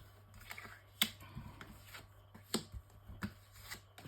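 Tarot cards being shuffled ahead of a nine-card reading, giving quiet, irregular papery riffles and soft slaps with a few sharper card taps, close up against a low steady hum.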